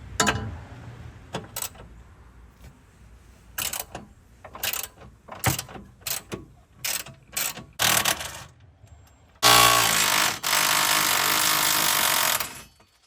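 Hand tools and a power tool work loose the factory airbox bracket on a 2023-2025 Ford F250 6.7 diesel, giving sharp intermittent clicks and clanks, then a loud sustained burst of drilling or ratcheting near the end.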